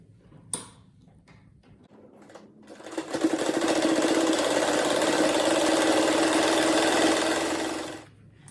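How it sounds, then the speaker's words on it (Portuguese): A sewing machine stitches a patchwork bathroom set: a sharp click first, then the motor runs at a steady, fast, loud whir for about five seconds before stopping, with no voices. "Agora eu pego daqui e passo costura"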